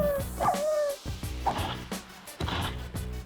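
Dogs bark and yip repeatedly in the Minecraft modpack Project Ozone 3, several short, close barks in quick succession with a whimpering tone mixed in over a steady game background.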